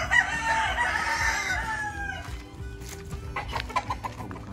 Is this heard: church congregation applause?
no